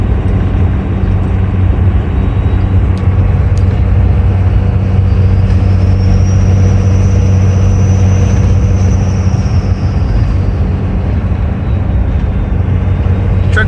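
A diesel pickup truck towing a skid steer drones steadily and loudly from inside the cab, while a thin turbo whistle rises and then fades partway through.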